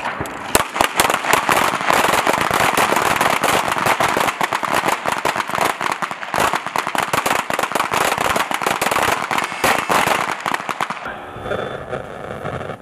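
Small arms fire crackles nonstop at a military shooting competition, many rifles and pistols popping in dense overlapping bursts for about eleven seconds before a sudden drop to near quiet.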